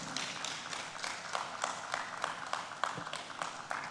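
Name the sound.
audience applause and clapping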